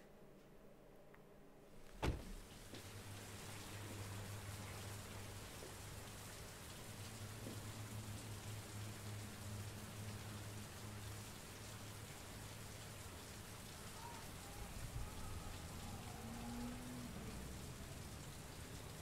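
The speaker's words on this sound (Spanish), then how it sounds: "Me encanta la lluvia, gente, me encanta." Steady rain pours continuously in a video game, a dense hiss of drops on surfaces, with a sharp knock near the start and faint mechanical whirs later on.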